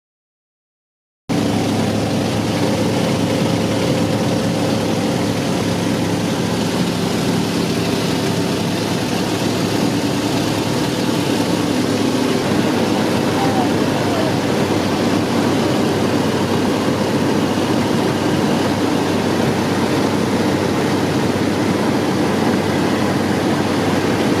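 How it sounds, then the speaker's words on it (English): A de Havilland Otter bush plane's propeller engine drones steadily and loudly from start to finish, a constant heavy hum with no voices. "caught our bush flight on this de Havilland otter that dates back to before 1968"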